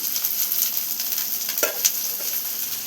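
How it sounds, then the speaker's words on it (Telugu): Chopped vegetables crackling as they fry in oil, a faint continuous sizzle with a few brief louder pops near the middle, close and alone. "ఇవైతే చిట్టపట్టలాడుతున్నాయి."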